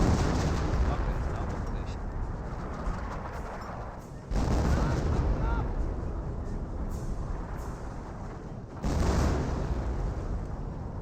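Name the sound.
artillery barrage in video game Company of Heroes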